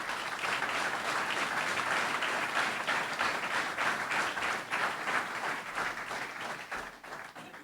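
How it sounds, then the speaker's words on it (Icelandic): Steady, fairly distant applause from an audience at a public meeting in Akranes, welcoming Vilhjálmur Birgisson to the stage, with dense clapping that gradually tapers. "ég vil biðja ykkur að klappa fyrir honum og bjóða Vilhjálm Birgisson velkomin á"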